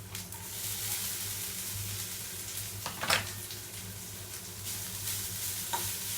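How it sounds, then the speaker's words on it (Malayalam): Grated coconut roasts in a pan for sambar, giving a soft continuous sizzle with occasional scraping stirs and a louder rasp midway, close up with no voices over a low hum. "തേങ്ങ ഒന്ന് വറുത്തെടുക്കും."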